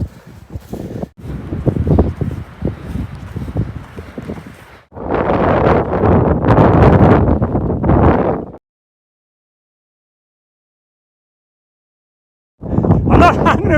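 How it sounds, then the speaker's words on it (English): Strong wind on a grassy rounded hilltop in Northumberland roars and buffets the microphone in loud gusts, broken by sudden quiet gaps. "I'm not hanging around, it's too windy."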